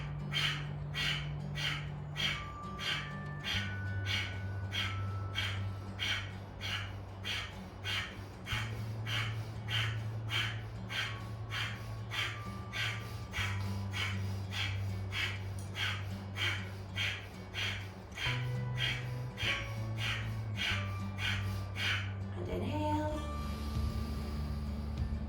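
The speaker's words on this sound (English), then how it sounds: "We're going to go for 10 to 15 rounds first of this Kapalabhati breath" Kapalabhati yoga breathing, rapid forceful exhalations pumped through the nose in a steady fast rhythm, dozens of sharp puffs in a row. Sustained music plays underneath, and the breaths stop near the end.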